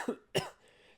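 Two short, sharp coughs in quick succession, close and fairly quiet, followed by near silence.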